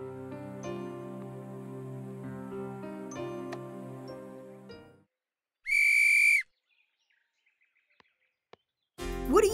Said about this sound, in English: So this time, I'm going to use the whistle.